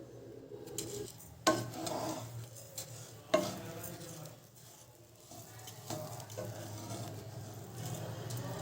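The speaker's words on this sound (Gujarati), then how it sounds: "મેં અહીં એક કપ ભરીને ખાંડ લીધી છે તેને એડ કરીને સારી રીતે મિક્સ કરી દઈશું" A spoon stirs milk, cream and added sugar in a pot for coconut ladoo, scraping and clinking against the metal in irregular strokes, with a couple of sharper knocks and a faint sizzle beneath.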